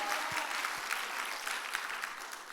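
A church congregation at a Korean service applauds, a soft, steady patter of many hands clapping together, faint and somewhat distant, with a couple of low thumps near the start.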